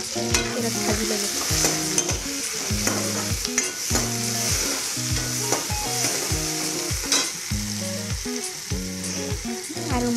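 Onion, capsicum and bay leaf fry in hot oil with a loud, continuous sizzle, broken by the repeated rhythmic scrape and knock of a spatula stirring the pan.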